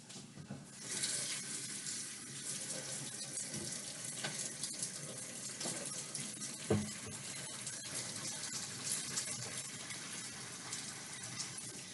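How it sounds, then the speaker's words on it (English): Tap water runs steadily into a sink while hands are washed in a kitchen before baking, a continuous close splash with small irregular changes and one brief knock near the middle. "whenever you're cooking or doing baking of any kind, you always want to start by washing your hands"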